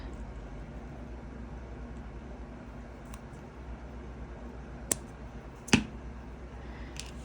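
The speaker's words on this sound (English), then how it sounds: "Let's trim it with some flush cutters." Flush cutters snip jewelry wire in two or three sharp, close clicks, the loudest near the end, over a faint steady room hum.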